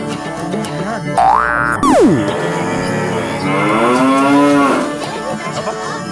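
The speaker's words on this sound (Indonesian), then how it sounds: "Oke, Omar, kita akan menyanyi untuk ini sapi yang tua ini supaya dia bahagia" An old cow at a dairy farm moos loudly and close by, first a short rising call, then a long drawn-out lowing moo, with faint background sounds.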